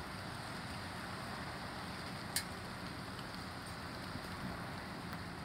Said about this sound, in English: there's hail everywhere on the balcony